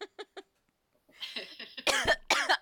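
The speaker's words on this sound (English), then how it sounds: "I've made myself laugh so hard I'm coughing" A woman who has been laughing hard coughs close to the microphone: three quick light coughs, a pause, then a longer run of harsher, wheezing coughs.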